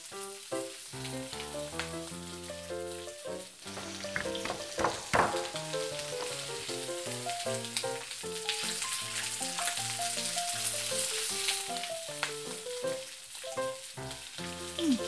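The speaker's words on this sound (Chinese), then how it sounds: "是先煎然后再来炒。" Food sizzles steadily in a wok as it is pan-fried and then stir-fried. The hiss runs throughout, partly buried under loud music.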